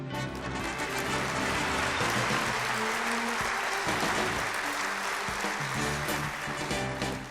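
An audience at an award ceremony applauds, a dense sustained wash of clapping from many hands that holds steady and loud before tapering at the end, with no speech over it.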